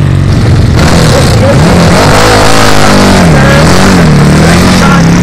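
A racing vehicle pulls away from the starting grid at the Hoghton Tower sprint, its engine blaring very loud and close, the pitch climbing and falling through gear changes over a continuous roar.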